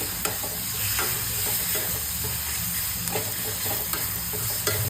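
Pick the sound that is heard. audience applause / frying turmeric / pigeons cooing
frying turmeric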